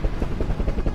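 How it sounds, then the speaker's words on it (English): A helicopter flies near the coast, its rotor thumping in a fast, even pulse over a low engine rumble, fairly loud and continuous. "A helicopter flew to the Alta on October 2nd to bring them some supplies."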